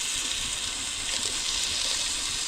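Water pours steadily into a cooking pot for Jamaican rice with cabbage, a continuous close hiss and gush with no voices.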